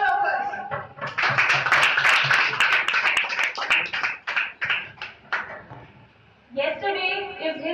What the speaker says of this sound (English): Let's begin the celebration with a huge round of applause for all of us